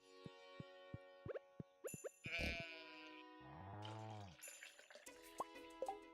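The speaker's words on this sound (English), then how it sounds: "Ah, cool. The sheep." A sheep in the Stardew Valley video game gives a drawn-out bleat in the middle, surrounded by soft game clicks, plops and drips; faint and clean, with no talk.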